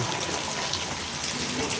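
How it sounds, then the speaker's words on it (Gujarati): Steady rain falls on the ground at Panthawada, a soft continuous hiss of drops spread evenly across the whole stretch with no voices over it. "વરસાદ પડી રહ્યો છે"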